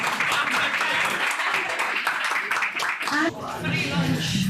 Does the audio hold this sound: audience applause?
yes